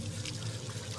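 Dirty water poured out in a short, steady splash during a horror scene, a brief full rushing sound with no speech over it.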